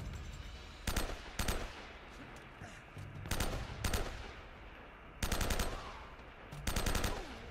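Gunfire in Uncharted: Drake's Fortune: loud, close bursts of rapid automatic fire come in about six short volleys separated by brief pauses, over a low background of game ambience.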